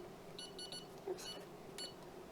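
A small digital timer beeps faintly in a quiet indoor room during a home pregnancy test, giving short high-pitched beeps in quick groups of two and three.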